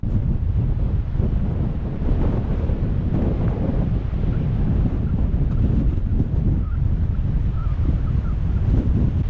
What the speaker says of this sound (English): It's a bit bloody windy